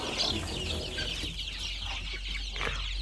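Newly hatched chicks on a farm peep in a soft, continuous chatter of thin high calls, quiet and nearby with no talking.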